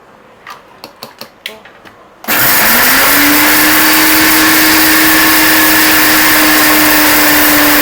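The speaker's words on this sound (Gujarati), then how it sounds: "એકવાર મિક્સરને ફેરવી અને મિક્સ કરી દેવાના છે" After a few light clicks, a kitchen mixer grinder blending ground spices for Kitchen King masala roars to life, a loud, steady, high-pitched whirring motor that runs on unbroken and close by.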